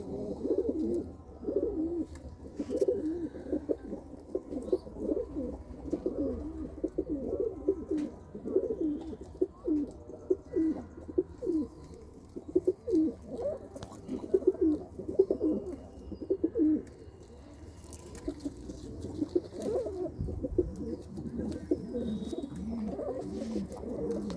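Many pigeons cooing together in a loft, a steady overlapping chorus of low throaty coos with a few faint chirps, close and continuous with no talk.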